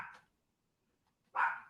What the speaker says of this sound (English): I don't know if you can hear Bella barking